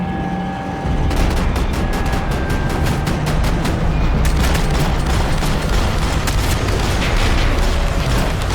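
Sustained heavy gunfire in the video game Max Payne 3, a dense rapid barrage of loud close shots with booming impacts that runs continuously after a brief lead-in.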